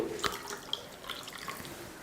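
Water poured into a cooking pot of rasam with tomato and tamarind, heard as a short close splash and dripping trickle with a few bright drops, faint and without talk.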